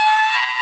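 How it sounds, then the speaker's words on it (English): A man lets out a shrill, high-pitched fangirl scream, one sustained loud squeal lasting under a second, heard alone with no other sound. "that's his fangirl scream"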